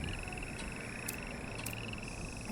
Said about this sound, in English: I can add frogs